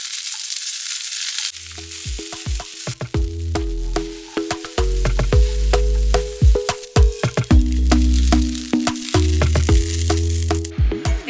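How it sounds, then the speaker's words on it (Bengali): Cut idli pieces fry in a pan with mustard seeds, curry leaves and sambar masala, crackling and spitting sharply over a steady sizzle, loud and close, for several seconds with no talking. "এবার এর মধ্যে ইডলিগুলো কেটে কেটে দিয়ে দেবো।"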